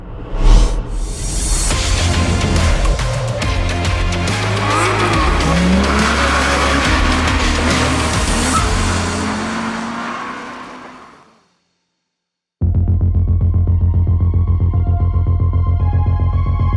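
A homemade race car modelled on the Lancia Stratos roars loudly nearby, its engine revving hard with tyre squeal and skidding. The sound cuts out briefly, then returns just as strong.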